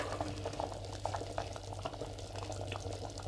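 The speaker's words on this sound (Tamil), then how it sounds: "இப்போ நல்லா கலந்து விட்டுட்டு இந்த குழம்பு நல்லா கொதிக்கட்டும் ஒரு பக்கம்." A pot of raw manathakkali kuzhambu, a Tamil tamarind gravy, simmers on the stove with soft, irregular bubbling and popping over a low background hum, close by and quiet, with no one speaking.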